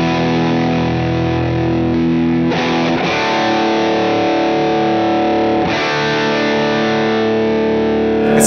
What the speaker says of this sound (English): Let's say we get a high gain sound.